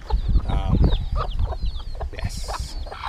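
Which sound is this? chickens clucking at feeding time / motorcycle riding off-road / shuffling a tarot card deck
chickens clucking at feeding time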